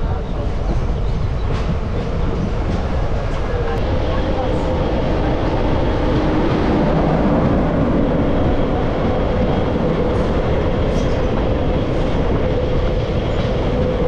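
A Kolkata–Balurghat train passes through Eklakhi Junction with a continuous loud rumble of rolling wheels and carriages.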